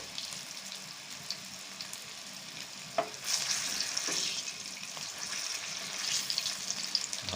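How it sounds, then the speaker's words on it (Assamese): Potatoes with spices fry in a pan, giving a steady soft sizzle with occasional clinks of stirring, faint and continuous with no talking. "আলু সৈতে মই যিখিনি মঠি লৈছিলোঁ সেইখিনি মই এতিয়া ফ্ৰাই কৰি আছোঁ।"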